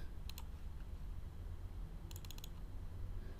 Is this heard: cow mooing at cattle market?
no